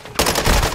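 A short, loud, close burst of rapid SMG fire with a large magazine in the video game Modern Warfare II, starting abruptly and continuing to the end.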